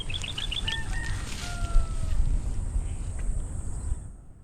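Several short, high chirping bird calls near the start, a few quick notes in a row, then a couple of longer whistled tones over steady outdoor background noise.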